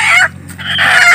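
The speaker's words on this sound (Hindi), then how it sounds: "अभी मुर्गा पकड़ लिया है" A rooster squawks loudly in two short bursts with a brief pause between, close by, sounding agitated as it is grabbed and caught from a basket.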